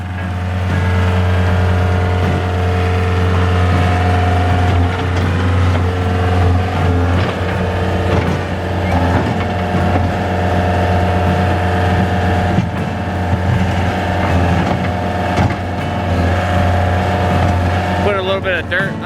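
A car stuck in dirt drones with a sustained engine roar, the revs rising and falling while its wheels work to break free, with voices talking over it throughout.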